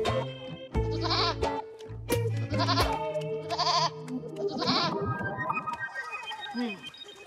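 A cartoon goat bleats several times in short wavering calls, fairly clear, with a cartoon character's voice nearby.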